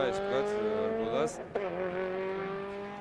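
A hill climb race car at a Georgian championship round at Didgori revs hard and close, its engine note climbing, dipping sharply at a gear change, then rising again in a steady roaring pull.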